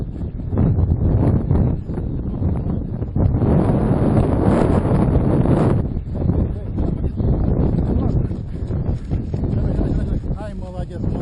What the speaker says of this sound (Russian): Не, ветер нормальный, сейчас придует.